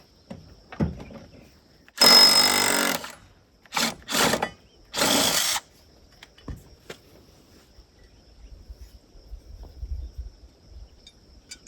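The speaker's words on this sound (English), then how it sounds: "Using a 5/8 socket, impact socket on an impact wrench, we're going to go ahead and remove these blades now." Impact wrench spinning off the blade bolts on a Toro MX5060 zero-turn mower, with a longer burst followed by several short buzzing bursts, fairly close, with quiet pauses between.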